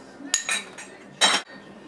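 Spoon clinks and scrapes in a bowl while sugar, cinnamon, pecans and chocolate chips for a sour cream coffee cake are stirred together, a few short bursts of clatter close by with no talking.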